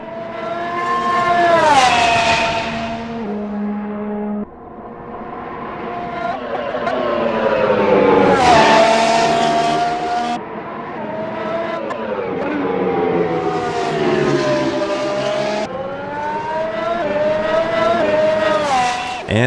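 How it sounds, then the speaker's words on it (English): A Formula Hybrid 2020 race car in a racing video game roars loudly and continuously, its engine pitch climbing and dropping through repeated gear changes with no talking. "So Formula Hybrid 2020, excellent car, highly recommended."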